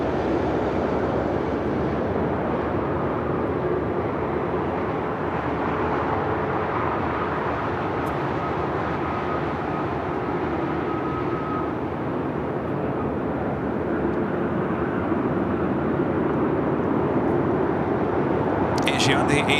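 An Asiana Airbus A380 taxiing at LAX airport, a loud, steady jet engine roar that holds unbroken throughout, with no voices.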